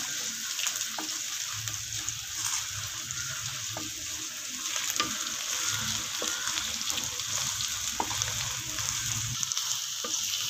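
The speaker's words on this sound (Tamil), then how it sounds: "நல்லா செவக்கிற வரைக்கும் நல்லா வதக்கிக்குங்க." Crushed spices sauté in oil for a Kerala fish curry, giving a soft, continuous sizzle with occasional light stirring taps, fairly quiet and steady throughout.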